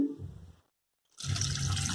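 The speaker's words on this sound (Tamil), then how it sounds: "தேவைக்கேற்ற தண்ணி சேர்க்கணும்." Water poured into a pot of potato kurma being cooked, a short splashing pour, a brief pause of silence, then a louder, fuller stream running continuously.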